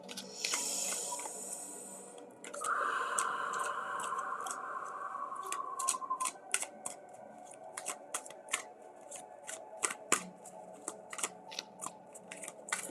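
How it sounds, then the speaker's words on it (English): Tarot cards being shuffled, a soft riffling burst followed by a series of quick crisp card taps and flicks, close and quiet with no talking. "I'm going to give these just a quick shuffle"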